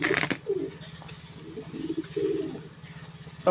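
Soft, low pigeon coos come in a few short bursts near the microphone over a faint background hum, with a brief sharp knock at the start.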